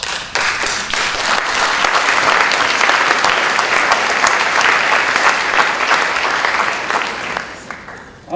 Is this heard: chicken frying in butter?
no